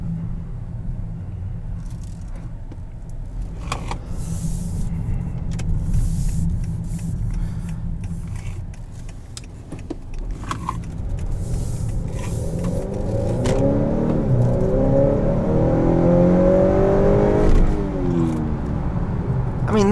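A 2018 Honda Accord 2.0T Touring accelerating hard, with the turbo engine's rising drone climbing through the gears and a brief drop at a shift, heard from inside the cabin under road rumble.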